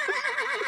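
A horse whinnies loudly and close, a single sustained neigh with a quavering, wavering pitch that lasts the whole moment, no speech.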